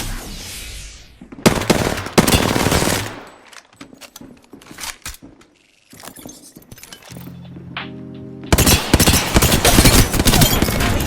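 Gunfire in Apex Legends comes in loud rapid bursts separated by quieter gaps with game effects and tones, the fire returning in a dense close volley at the end.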